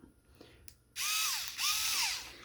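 Power drill spinning a 3D-printed outboard motor, quiet handling noises at first, then a loud whirring spin-up, a brief dip in speed and a second rising whine.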